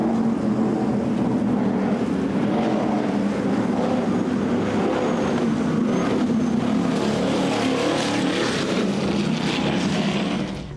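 A 2013 46-foot Skater powerboat powered by twin Mercury Racing 1350 engines roars steadily at speed during a Key West poker run, a loud sustained engine drone with wind and water rush holding constant throughout.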